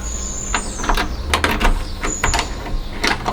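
Metallic clicks and scraping of a newly cut key working in a door lock, with several sharp ratcheting snaps and a brief squeak, heard up close.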